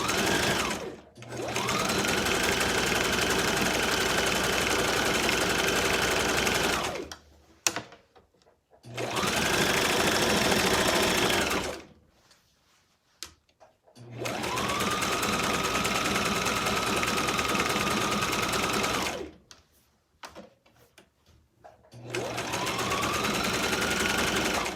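A sewing machine stitches doubled wefts onto a wig cap in four long, loud, close bursts of steady whirring, each separated by short pauses of near silence.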